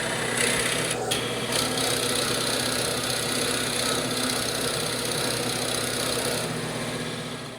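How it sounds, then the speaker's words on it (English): A wooden cone spinning on a lathe with sandpaper held to its end gives a steady, close, continuous raspy scratching over the machine's low hum, with no pauses. "Now I've gone ahead and sanded the end here."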